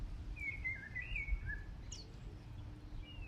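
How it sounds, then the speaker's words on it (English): Birds chirp and whistle in short bursts over a low, steady background rumble, fairly faint and some distance away. "you can hear the birds, they're so beautiful"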